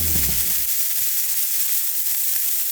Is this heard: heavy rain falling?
no